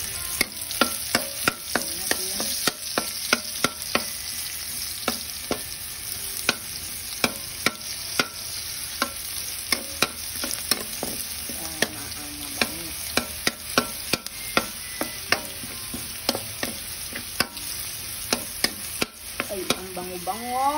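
Onions sauté in a pan for adobo, the steady sizzle running through the whole stretch while a utensil scrapes and clicks against the pan in quick, irregular stirring strokes. The sound is close and fairly loud, with no talking.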